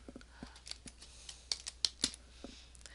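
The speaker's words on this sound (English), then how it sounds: "Alright, so I'm going to type my caption." A computer keyboard is typed on in short, irregular bursts of clicky taps, close and fairly quiet, with no talk.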